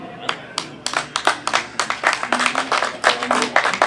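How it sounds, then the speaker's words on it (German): A small group applauds at a German radio show after an award announcement, with sharp, irregular hand claps close by that build into a denser, steady patter, with speech mixed in underneath. "Wir kriegen sogar Applaus, das ist aber nett von euch."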